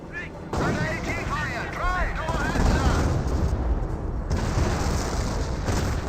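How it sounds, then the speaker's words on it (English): Mortar and artillery fire from the World War II strategy game Company of Heroes, dense and loud booms and blasts rolling continuously under a commentator's voice. "Mortar is getting some good hits in as well."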